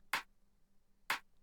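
Two crisp rim-style snare hits from a music production sample, sharp and bright, spaced about a second apart with quiet gaps between them, in an electronic track.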